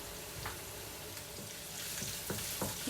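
Ginger frying in a hot pan for a chicken and vegetable stir fry, a steady close sizzle with a few stirring scrapes, no talking.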